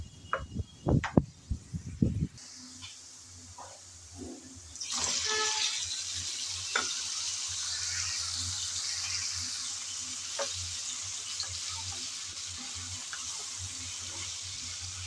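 Potatoes and pointed gourd frying together in a pan: a few loud clatters and knocks first, then the gourd drops in and a continuous bright sizzle takes over, with occasional stirring scrapes.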